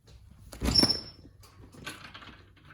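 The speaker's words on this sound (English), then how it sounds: "sorry you have to listen to my squeaky old couch" An old couch creaks and squeaks as someone shifts their weight on it, one loud burst followed by a softer rustling creak.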